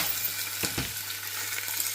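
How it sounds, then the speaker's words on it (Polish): Cabbage dish ingredients hit hot oil in a pot and fry with a steady, close sizzle, broken by a brief stirring clatter. "Wrzucam na rozgrzany olej do garnka to wszystko"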